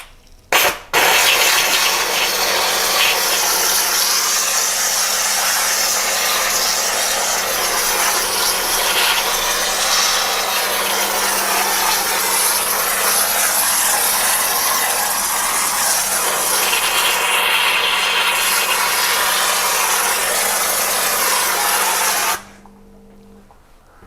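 Karcher SC3 Anniversary steam cleaner releasing steam: a loud, continuous hiss running for over twenty seconds under a faint steady hum, then cutting off abruptly near the end.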